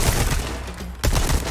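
Rifle shots in a Resident Evil shooting-gallery challenge, loud booming reports at the start and again after a brief lull, each ringing out heavily close by.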